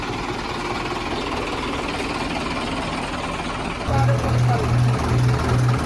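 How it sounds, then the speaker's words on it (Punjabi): A tractor engine starts up and runs, a broad steady rumble that grows louder after about four seconds into a regular low pulsing chug. "ਰਵਾਨਾ ਟਰੈਕਟਰ ਸਟਾਰਟ ਹੈ"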